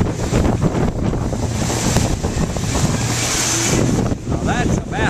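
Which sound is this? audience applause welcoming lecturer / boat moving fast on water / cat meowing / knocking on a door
boat moving fast on water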